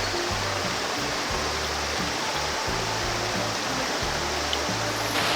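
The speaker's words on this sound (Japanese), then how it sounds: "適量な水量の川は気持ちいいですね。" A river running at a moderate water level after recent flooding rushes and splashes in a steady, full broadband roar that continues throughout without pause, with no voices.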